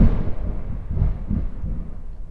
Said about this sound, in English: I don't know if you can just hear the lightning and the thunder cracking over my head.